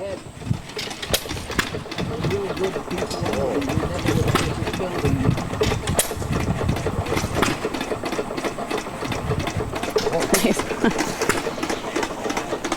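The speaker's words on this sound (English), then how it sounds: "so these engines, they're hit and miss engines, 4-stroke engines" An antique four-stroke hit-and-miss engine chugs steadily with sharp periodic pops and clatter over a continuous mechanical rumble, close by and fairly loud, at a state fair.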